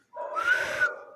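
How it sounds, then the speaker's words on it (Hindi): A single sustained whistle blast lasting about a second sounds clearly on its own as an alarm signal during NCC field craft and battle craft training. "तो उसके लिए क्या करना होगा कि आप लॉन्ग, शॉर्ट, फिर लॉन्ग, फिर शॉर्ट, ऐसे करके सीटी बजाओगे"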